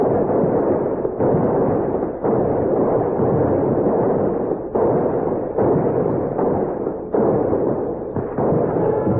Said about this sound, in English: We're going to fire a salute that'll open every door in town and bring everybody running down to the river.